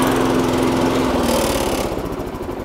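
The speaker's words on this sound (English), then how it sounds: "And that's how you start the petrol mower." Petrol lawn mower engine runs steadily and loudly up close, a continuous buzzing drone that shifts pitch slightly as it settles.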